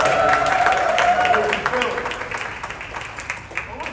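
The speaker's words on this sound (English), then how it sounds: "Let's give her another round of applause" A conference audience applauds at a film and TV pitching talk, the clapping strongest at the start under a voice and then thinning and fading over the next few seconds.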